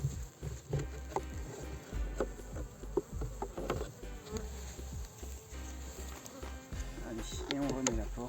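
Honeybees buzzing and streaming out of a disturbed hive entrance, a steady close insect drone with scattered bumps and knocks, while a person talks intermittently over it.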